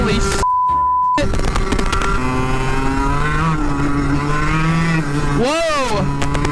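A fast racing go-kart engine screams at high RPM close to the microphone, its pitch rising and dipping with the throttle, cutting out briefly early on, then sweeping down and up again near the end.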